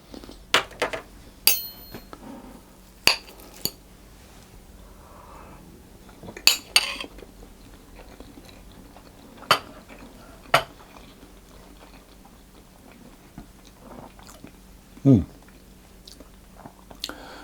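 Cutlery clinks sharply against a plate a few times while a piece of cooled Spanish tortilla made of potato, onion and egg is eaten, with soft chewing and quiet movement between the scattered close taps.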